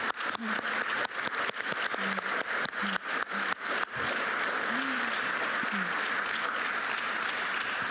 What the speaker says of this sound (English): I invite you to applause to our panelists.